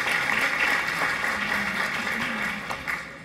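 Applause at a celebration event for a rural health care model, moderate and steady with a slightly distant feel, a faint tonal hum beneath it, easing off a little toward the end.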